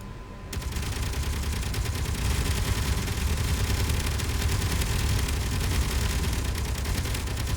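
Gatling turrets in Space Engineers open fire and hold a continuous, dense, rapid stream of shots that starts abruptly and stays loud and even to the end, with no talking.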